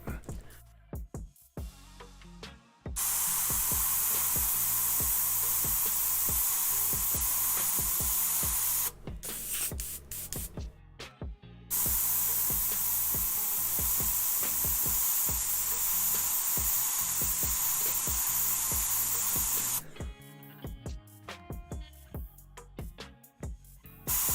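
An airbrush sprays orange paint, tinted with a drop of red, in two long steady hissing bursts of several seconds each, loud and close, separated by short pauses with small handling clicks.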